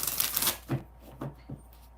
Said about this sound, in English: One more shuffle just for the hell of it.